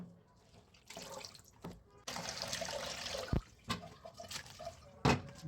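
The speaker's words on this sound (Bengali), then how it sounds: "পরে একটি পাতিলায় নিয়ে এগুলোকে ভালো করে পানি দিয়ে ধুয়ে নিব।" Chopped cabbage being washed in a pot with water makes splashing and running-water sounds, with swishes and a few sharp knocks against the vessel, close by and alone.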